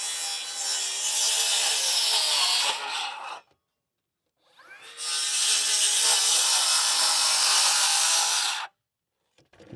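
A power saw cuts through a 2x6 wooden rafter in two loud, rasping passes of about three seconds each, separated by a short silence.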